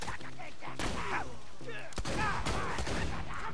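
Turret gunfire in Borderlands 2, rapid bursts of shots crackling loudly throughout, with voices talking over the firing.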